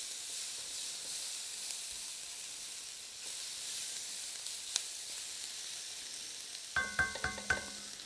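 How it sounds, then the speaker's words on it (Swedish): Tomato purée browning in a pan for sausage stroganoff: a quiet, even sizzle and hiss continues throughout, ending with a few sharp metallic scrapes and taps of a utensil on the pan. "Sen har jag tomatpurén. Ska också få bryna med."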